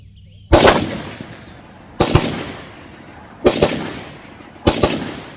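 Four loud 6.5 rifle gunshots at an outdoor shooting range, each a sharp blast with a long echoing decay, spaced roughly a second and a half apart, close and alone.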